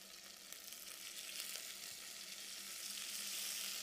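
Meat searing and browning in a hot pan makes a steady, bright sizzle, close and fairly quiet, with a soft crackle that swells slightly toward the end.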